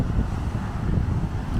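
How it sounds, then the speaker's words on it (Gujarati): Strong sea wind and crashing waves at Porbandar Chowpatty beach around midday, a steady broadband roar with low rumbling surf filling the whole stretch, no voices. "મોજા મારે જોરદાર."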